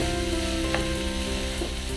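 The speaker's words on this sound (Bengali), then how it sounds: "ভালোভাবে মশলাটার সঙ্গে মিশিয়ে নিতে হবে। ভেজিটেবলগুলি যেন একদম চাউমিনের সঙ্গে মিশে যায়।" Vegetable chowmein with spices being stir-fried in a pan, giving a steady close sizzle throughout with a few soft scraping stirs and no voices.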